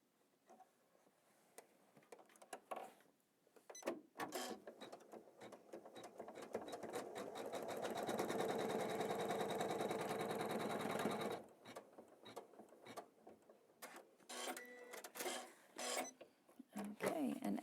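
Embroidery machine stitching a trim line on a tree design, a fast even rattling hum that builds and holds for several seconds between scattered clicks and handling sounds.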